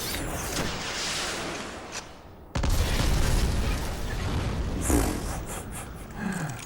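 A rocket launcher explosion in the Xbox shooter Black: a loud boom at about 2.6 seconds, followed by a sustained roaring rumble of debris and gunfire-like bursts, with no voices.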